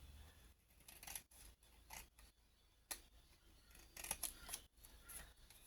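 Quiet, close snipping of scissors cutting through a paper tag, several short irregular cuts with soft rustling between them.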